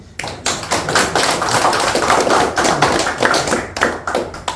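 An audience at a Korean history lecture claps loudly and densely; the sharp claps build into a full burst, then thin into scattered separate claps near the end, with no voices.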